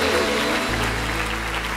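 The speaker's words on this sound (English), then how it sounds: "Let's give God a big hand clap." A church congregation gives a loud, sustained round of hand clapping in a worship service, dense overlapping claps filling the room throughout with no speech.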